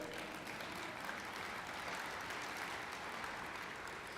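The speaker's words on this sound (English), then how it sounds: "Yes, you should be clapping for that." Audience clapping during a university open house presentation, a soft, steady patter of applause heard from a distance, quiet and unbroken throughout.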